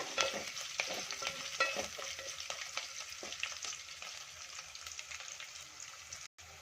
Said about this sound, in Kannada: ಶುಂಠಿ ಬೆಳ್ಳುಳ್ಳಿ ಚೆನ್ನಾಗಿ ಫ್ರೈ ಆಗಿದೆ